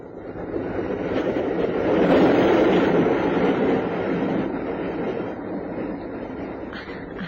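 Steady rumble of a moving train heard from inside a carriage, a broad continuous roar swelling slightly in the middle, no voices.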